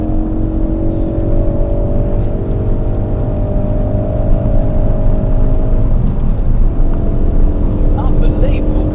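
A Ford Focus RS hatchback lapping the Goodwood circuit, its engine a loud, steady droning roar with sustained revving heard from inside the car, plus faint cabin noise throughout.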